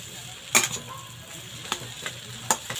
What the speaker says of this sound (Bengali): এবার ভালো করে একটু নেড়েচেড়ে মিশিয়ে নেব।